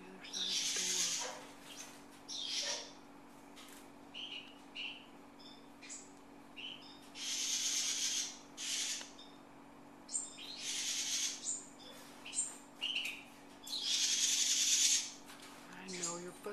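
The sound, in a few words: baby bird calling behind a door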